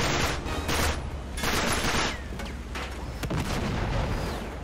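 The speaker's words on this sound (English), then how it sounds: "Who's shooting me?" Dense, sustained gunfire and explosive bursts fill a hectic firefight in the video game Uncharted 3: Drake's Deception, with heavy rattling volleys surging and fading without letup.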